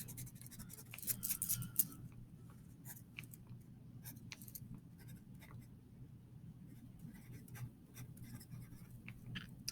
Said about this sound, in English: I'm going to write this a little bit smaller.